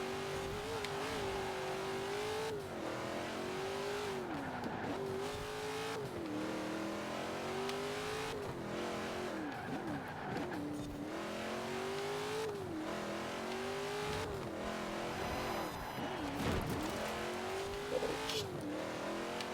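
A racing car driven in a video game, its engine droning and revving steadily with repeated rises and drops in pitch as it shifts and brakes through corners, loud and continuous with no talk.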